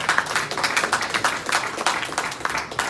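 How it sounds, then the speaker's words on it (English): Crowd applause at a boxing press conference after an Errol Spence Jr fight, loud uneven clapping from a room of people throughout. "A round of applause"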